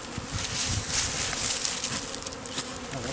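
A swarm of honeybees in April gives a steady, dense buzzing that fills the whole clip, many insects blending into one continuous drone with small fluctuations, fairly close and loud, with no talking.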